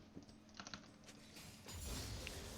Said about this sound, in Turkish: Sakinleş bırak o klavyeyi.